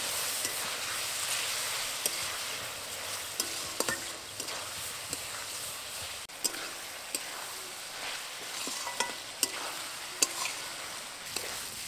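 Chicken with chili, coriander and cumin powders fries in a pan for banana leaf biryani, a steady sizzle running throughout with scattered sharp clicks and scrapes of stirring.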